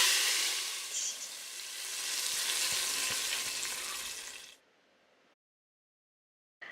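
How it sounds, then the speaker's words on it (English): Chane ki dal gosht sizzles loudly in a hot pan, a bright crackling hiss that swells and then stops abruptly, followed by near silence. "Wait for the sizzle."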